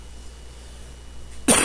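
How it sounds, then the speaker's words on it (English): A single short cough at the very end, loud and close against an otherwise quiet background. "Sorry about the coughing and such."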